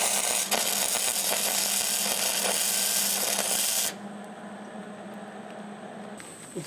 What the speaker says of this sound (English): Welding.